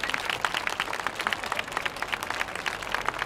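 A festival audience applauds steadily and densely after a yosakoi dance performance, many hands clapping together at moderate distance with no voices over it.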